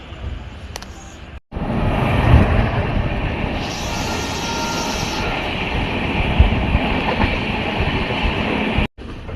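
The 20492 Sabarmati - Jaisalmer SF Express runs along the line, a loud steady rumble and clatter of wheels on rails heard from inside the coach, with brief dropouts near the start and end.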